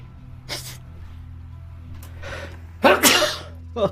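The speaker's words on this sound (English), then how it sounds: "Oh, big sneeze." A single loud, sharp sneeze bursts out late in the clip, preceded by quieter breathy sounds over a low steady hum, while playing Turtle WoW.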